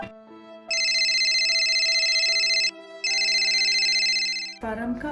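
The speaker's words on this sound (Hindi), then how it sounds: "परम का फोन।" A telephone rings indoors in a family drama scene: two long bursts of loud electronic ringtone separated by a short gap, over a quiet tonal background, before a voice begins at the end.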